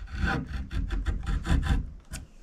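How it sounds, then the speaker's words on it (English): An antique chisel is rubbed back and forth over a wet sharpening stone, giving a run of close, steady scraping strokes in a regular rhythm with no one talking. "So yeah, I use for chisels a stone, wet sandpaper."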